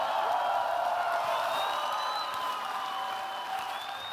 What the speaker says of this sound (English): let's have a round of applause for these two warriors